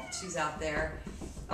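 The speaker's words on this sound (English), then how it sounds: "That's the cat that likes to talk and likes to share her meows with the world." A talkative house cat meows briefly close by, its cries mixed in with a person speaking over it indoors.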